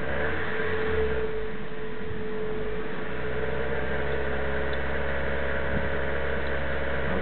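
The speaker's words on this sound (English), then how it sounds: "now I'm gonna rev it until 1500 to 2000 RPMs" A 2000 Toyota Solara SE with an inline-four engine, under investigation for a clunking noise, revs up to about 2000 RPM and holds there as a steady, close, continuous engine drone with no talking.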